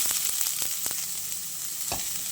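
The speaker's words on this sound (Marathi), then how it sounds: "एक चमचा तूप घातलेला आहे त्यामध्ये मी ओला नारळ घालते" Grated fresh coconut drops into hot ghee in a pan, giving a soft steady sizzle with several sharp spatula clicks and scrapes, close and quiet, with no talking.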